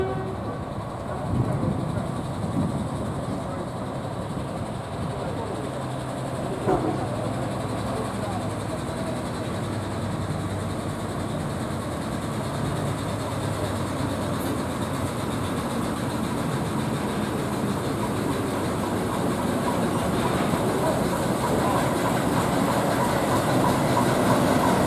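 A Class 03 diesel shunting locomotive, 03197, draws a DMU set into a heritage railway station on the Hoe–Dereham shuttle, its engine rumble and wheel clatter steady and fairly close, with a brief horn-like tone early on.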